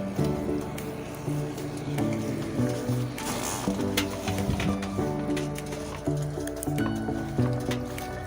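Jackfruit being added to a pot for Filipino ginataang langka, with wet squishing and liquid sloshing sounds and small splashes over a steady background hum, repeated several times at close range.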